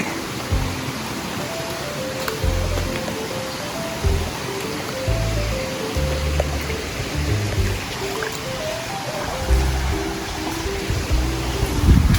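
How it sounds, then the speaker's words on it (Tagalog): A strong stream near a waterfall in Calauag, Quezon, Philippines, rushes continuously nearby, a dense, steady roar of flowing water with a faint low rumble underneath. "Malakas ng agos."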